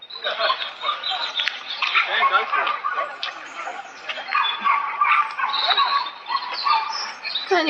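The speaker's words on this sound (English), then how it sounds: "you can hear the woofers barking away there" Dogs bark and yip in a busy, continuous chorus at a moderate distance by a lake in Mote Park, with high whimpering and chirpy calls mixed in.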